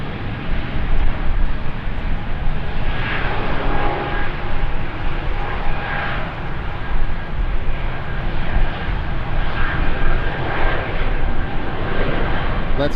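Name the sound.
airplane taking off at Schiphol Airport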